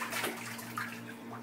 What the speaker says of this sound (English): Show Daddy how you splash.